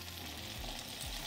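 Chopped jackfruit seeds and drumsticks sauté in sesame oil, giving a continuous, fairly soft sizzle and crackle with no distinct stirring strokes and no voices.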